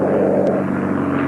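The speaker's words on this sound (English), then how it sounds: "Watch out for that plane!" A propeller airplane drones past in a cartoon, a loud, dense engine roar held close and steady for a brief moment with no voices over it.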